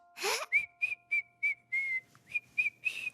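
A cartoon character whistles a string of short, high notes with brief pauses between them, close and clear, after a quick breathy sound at the start.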